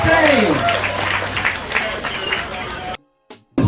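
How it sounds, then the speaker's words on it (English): A crowd at a knife show applauds after a balisong flip, loud clapping mixed with cheering and voices that cuts off abruptly near the end before a brief burst returns. "Let's give him a round of applause"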